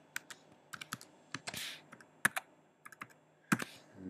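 Credit card details being typed on a computer keyboard: a run of sharp, irregular key clicks and taps, fairly close and alone with no voices, including a few heavier strokes.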